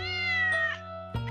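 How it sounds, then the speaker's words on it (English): A kitten meows in a short, tonal cry that rises and then falls away. A second brief meow follows it near the end. Both are close and clear against a quiet background. "It's just a lost kitten."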